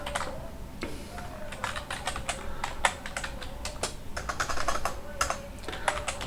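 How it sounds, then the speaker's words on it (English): Rapid keystrokes on a computer keyboard, irregular clusters of close, crisp clicks tapping on throughout with no talking. "So now I am typing here"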